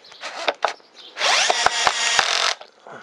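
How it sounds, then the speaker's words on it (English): A Bosch PSB 1800 Li-2 cordless drill drives a screw into wood at maximum torque, with a few short trigger bursts followed by a sustained loud whirring run and sharp clutch clicks, close up and alone. "So you can see, with the torque right up to max, it can get the screw in."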